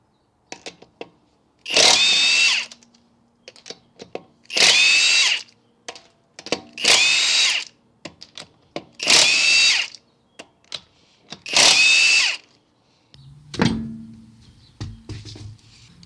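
Hercules 1/2-inch high-torque impact wrench with extended anvil, on speed 3 with a 21 mm socket, working car lug nuts: five loud hammering bursts of about a second each, evenly spaced with quiet gaps, close by and with no talking.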